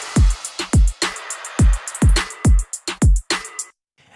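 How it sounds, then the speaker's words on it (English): A K-pop chorus drum beat with a busy pattern of deep, punchy kicks, crisp finger snaps and ticking hi-hats plays up close and loud, with the kicks landing in quick, uneven clusters before stopping abruptly. "We're doing a slightly more busy kick pattern"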